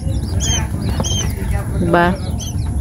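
Young quail chicks on a quail farm give thin, high chirps and peeps under a person speaking close by, with a steady background hiss.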